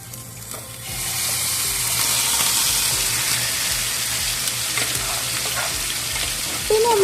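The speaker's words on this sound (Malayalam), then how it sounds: "ഇനി നമുക്ക് പാനിൽ വെളിച്ചെണ്ണ ഒഴിച്ചതിന് ശേഷം ഇതൊക്കെ ഒന്ന് ഇട്ട് ഒന്ന് ഫ്രൈ ചെയ്തെടുക്കാം" Mixed ingredients fry in coconut oil in a pan, a steady close sizzle running throughout with a few faint clinks near the end and no talking.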